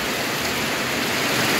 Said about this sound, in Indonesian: Wah, kita hujan-hujanan, guys.